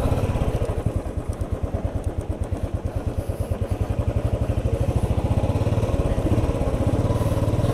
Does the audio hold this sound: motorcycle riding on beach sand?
yes